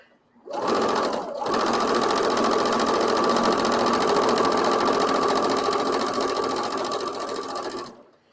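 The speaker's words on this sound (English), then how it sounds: "if I'm doing something where I want to sew slowly, where I want to take my time, I'll switch over and use this machine" A sewing machine runs at a slow, steady pace, its continuous mechanical whir and needle chatter holding evenly for about seven seconds after a brief handling sound at the start, close and clear with no talking.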